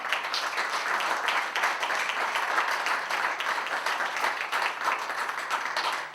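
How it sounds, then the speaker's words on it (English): Sustained crowd applause for Reverend Bob at a National Action Network gathering in 2017, even and continuous from a sizable audience, heard alone without speech. "I really want to give a real big applause to Reverend Bob"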